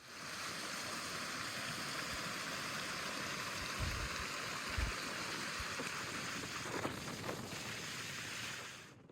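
Steady wind gusting outdoors on a Mount Meeker hike in Rocky Mountain National Park, Colorado, beside water, a continuous loud broadband rush with a few low buffeting thumps, heard alone without voices.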